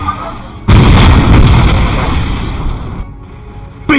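Imperial Guard artillery guns firing in the real-time strategy game Dawn of War: Soulstorm, a sudden loud boom that rolls on for a couple of seconds and decays, followed by a brief gap and another sharp hit.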